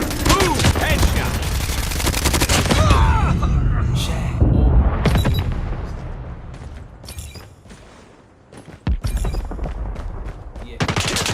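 Video game gunfire: dense bursts of rapid automatic shots and bangs, loud and close, thinning out into scattered shots with brief pauses.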